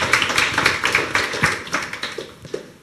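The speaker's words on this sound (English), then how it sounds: "I think Zsuzsa deserves a big hand of applause." Listeners at a UX research and design forum clap for a speaker, a brief round of moderately loud, fairly even applause from a small crowd that thins out by the end.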